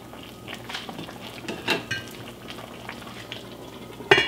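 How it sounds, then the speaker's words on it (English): A spoon stirs and ladles cooking liquid over vegetables in a cast iron braiser, giving soft scraping and liquid clinks with a gentle sizzle, ending in a sharper metallic tap. "I'll just make sure to spoon just a little bit of the fluid over the veggies"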